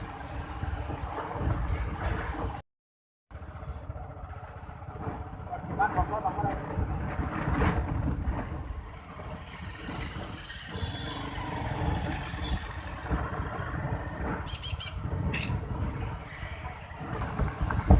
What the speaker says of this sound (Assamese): মানে কথা ক'ব পৰা নাই, এনেকুৱাই বতাহ দি আছে